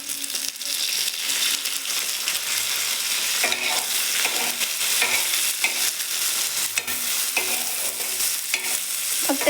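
Leftover-rice breakfast is sautéed in a pan with a steady sizzle and repeated scraping stirs of a spatula, continuous and close throughout.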